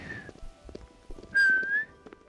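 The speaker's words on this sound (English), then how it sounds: "Why can't I learn how to whistle?" A person whistles a single sustained, gently wavering note for about half a second, heard near and fairly loud over quiet background clatter and soft room noise, with a brief earlier whistled tone at the start.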